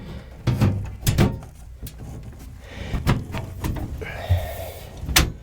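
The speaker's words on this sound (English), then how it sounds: "So now we put the door back on and fire it up." A computer case side panel door being fitted back on during a video card install, heard as several sharp knocks and clunks spread across a few seconds, close and fairly loud.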